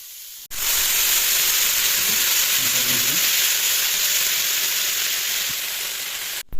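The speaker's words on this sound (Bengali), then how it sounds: "দিয়ে ভালো করে নেড়ে সেটাকে ভেজে নেব" Tangra fish curry frying and being stirred in a pan, a loud steady sizzle and hiss that holds throughout with faint stirring scrapes, cutting off briefly near the end.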